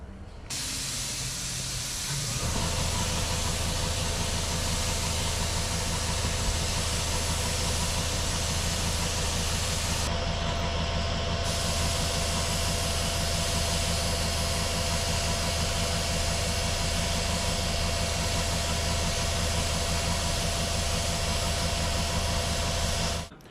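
A Harbor Freight HVLP spray gun lays down a final paint coat with a loud, steady, close hiss of air and spray that runs unbroken for more than twenty seconds and briefly dips partway through, with no talk.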